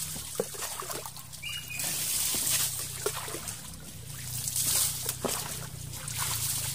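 Water trickles and splashes steadily at a cold natural spring during an outdoor bath, a close, continuous wet flow with occasional sloshes and faint voices in the background.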